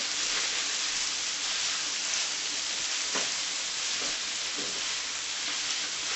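Sweet potatoes and onion fry in a skillet with a dense, steady sizzle and crackle that holds close and even throughout, without any voices.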